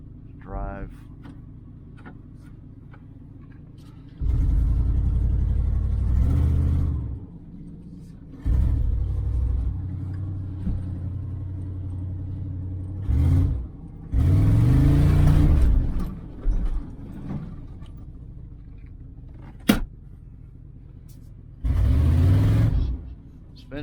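A 1994 GMC Stepside pickup truck accelerates in bursts with deep engine rumble, spinning its tires through several loud surges separated by quieter idle stretches, with occasional talk.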